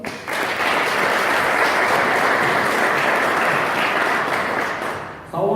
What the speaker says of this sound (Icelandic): bara gefum alltaf gott klapp aftur